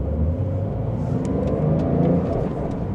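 A Porsche sports car engine hums steadily and builds gradually as the car picks up speed, with a constant road rumble underneath.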